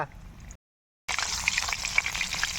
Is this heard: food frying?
yes